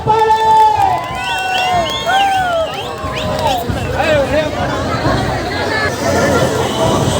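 A large festival crowd at the Arakalagudu Dasara celebration cheers and shouts loudly, many voices rising and falling together in a continuous, close roar.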